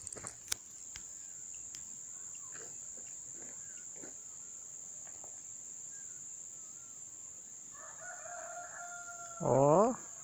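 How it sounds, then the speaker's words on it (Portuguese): A rooster crows once near the end in a rural hillside setting, loud and fairly close, after a long stretch of steady high cricket or insect trilling with faint scattered background sounds. "Ó, o galo cantou com uma força ali."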